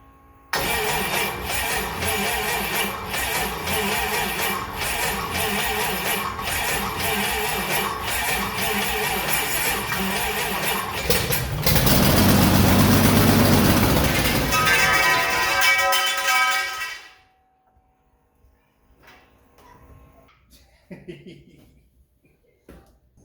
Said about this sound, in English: So I'll show you a video now of it starting, the very first time it started.